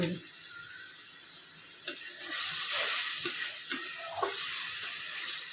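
Red amaranth stems frying in a pan while being stirred, a soft steady sizzle broken by several sharp scraping and clicking strokes of the spatula.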